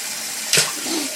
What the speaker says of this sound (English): And then after that, we're gonna rinse our teeth off.